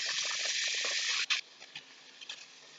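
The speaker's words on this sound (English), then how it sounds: "can you guys hear it sizzling?" Hissing, crackling sizzle of chicken and vegetables frying in a pan with a little olive oil, strong at first and then cutting off into faint pops and ticks.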